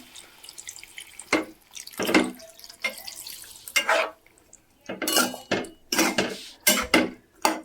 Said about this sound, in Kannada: ಇದಕ್ಕೆ ಒಂದು ಸ್ವಲ್ಪ ನೀರು ಹಾಕ್ಕೊಂಡ್ಬಿಡ್ತೀನಿ ಕುದಿಯುತ್ತೆ ಚೆನ್ನಾಗಿ